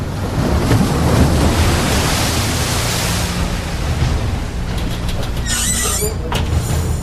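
High ocean waves in the Southern Ocean near Antarctica, heard aboard a Korean icebreaking research vessel as a steady roar of rushing water and wind, with a few brief sharper splashes or knocks toward the end.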